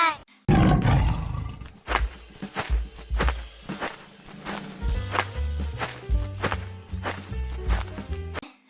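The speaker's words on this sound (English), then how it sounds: "T for tiger" A loud animal roar, like a tiger, bursts out with a deep rumble and is followed by rhythmic percussive beats and music.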